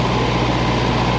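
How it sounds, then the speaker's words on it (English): A Kohler 10 kW gasoline or propane standby generator engine runs under load while warming up, giving a steady, close, droning hum with a constant low throb and no voices. "the hertz are coming down as the engine's warming up"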